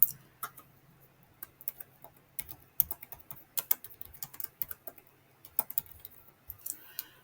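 Irregular clicks of typing on a computer keyboard, close and crisp, in short uneven bursts with brief pauses, over a faint low hum.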